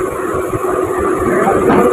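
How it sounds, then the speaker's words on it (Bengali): A train at Canning railway station gives off a steady, loud rumble and rolling clatter, heard close and continuous without pauses. "একটা ট্রেন দাঁড়িয়ে আছে,"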